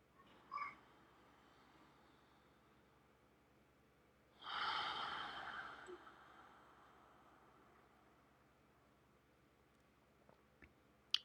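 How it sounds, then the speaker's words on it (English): Deep oceanic yoga breathing, one long audible breath, soft and close, after a brief sniff, with quiet pauses around it. "Focus on the oceanic sound of the breath"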